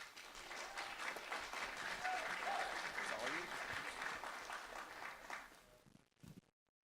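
Audience applause welcomes a presenter named Christine from the Office of Communications, a sustained wash of clapping at moderate distance with faint cheering mixed in, holding steady for several seconds before cutting off abruptly.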